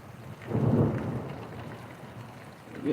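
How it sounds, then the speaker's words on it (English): Heavy thunderstorm during a tornado warning, with a deep rumble of thunder swelling near the start over steady loud rain that continues throughout. "we are under a bad storm"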